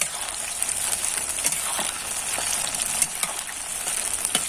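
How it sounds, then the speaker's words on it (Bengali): Green chilies sizzling and crackling in hot mustard-oil tempering with five-spice seeds while being stirred, a loud continuous hiss with scattered pops and no talking. "তেলে এবার দিয়ে দেব এই যে লঙ্কাটা এবার দিয়ে দেবো বন্ধুরা লঙ্কাটা দিয়ে একটু নেড়ে চেড়ে নেব"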